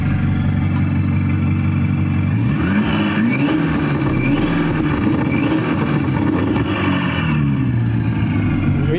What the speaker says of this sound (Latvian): Tas ir X6M Stage 2, kad ir bez katalizatoriem,